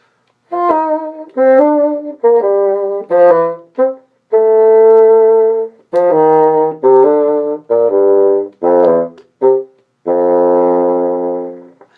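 A solo bassoon plays a Weissenborn etude passage descending to a low F, in a string of clear, loud, separated sustained notes with short gaps and a longer final held note.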